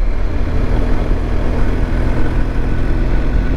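A BMW R 1250 GS Adventure boxer engine lugs at low revs, a loud, steady deep rumble with a dense low throb and no pauses, heard close up while riding.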